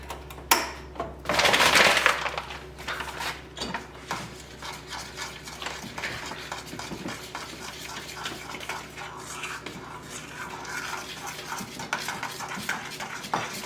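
Sour cherry cobbler ingredients being stirred together in a bowl, with a louder scraping burst near the start and then a steady scraping, clinking stir, close up, with no talking.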